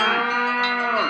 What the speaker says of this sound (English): Hear that? That's the sound of happy cattle